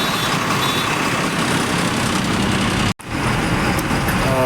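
Trucks and buses stand in a roadway traffic jam, their engines giving a loud, dense rumble that continues with a brief sharp cut partway through. A faint rising tonal sound comes at the end.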